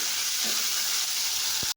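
Mint and coriander leaves sizzling in hot oil for a beetroot palya, a steady close hiss with a brief clatter at the end.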